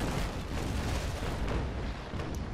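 Ship cannons fire a broadside in Naval Action, a dense, broadband rumble of overlapping blasts rolling continuously at moderate loudness, distant and heavy.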